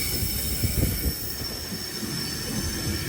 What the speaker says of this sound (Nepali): आयो है त साथीहरू मेरो ट्रेन